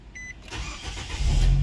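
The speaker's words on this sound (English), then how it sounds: "Car starts." A 2008 Nissan Versa with a charging fault is started with the key: a short dash beep, then the engine cranks and catches, rumbling louder and close by.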